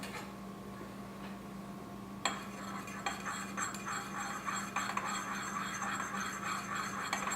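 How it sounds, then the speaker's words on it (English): A spoon stirs melted homemade lip balm in a glass measuring cup set in a double boiler, giving a steady run of light clinks and ticks against the glass over a low background hum, starting after a brief quiet stretch. "now we're going to stir it one more time"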